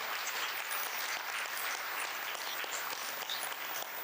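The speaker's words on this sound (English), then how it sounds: "So he needs a really big clap." Faint, steady applause from an audience at a women's health and finance event, a continuous patter of many hands with no voices over it.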